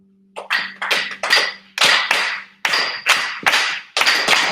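An audience at a spoken-word poetry event claps in a short, rhythmic run of loud, close hand claps, roughly ten sharp bursts with no talking.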